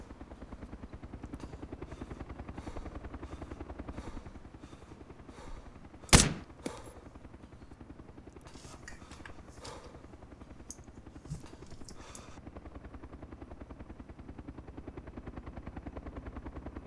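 Helicopter rotor chop in the video game Arma 2 DayZ Overpoch, a steady rhythmic thudding drone at moderate distance, briefly broken by a sharp gunshot and scattered bursts of gunfire.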